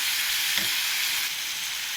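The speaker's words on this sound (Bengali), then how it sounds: "স্বাদ মতন হলুদ আর নুন দিয়ে দেওয়া হলো। নেড়ে ছেড়ে ভাজা ভাজা হবে" Food fries in hot oil with turmeric and salt stirred in, a steady bright sizzle filling the whole stretch at close range, with a faint stir near the start and no talk.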